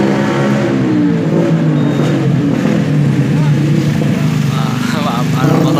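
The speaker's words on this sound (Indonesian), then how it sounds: "ada motor lewat ya" A motorcycle passes at night outside a bus company's head office, its engine drone rising and fading nearby, mixed with someone talking throughout.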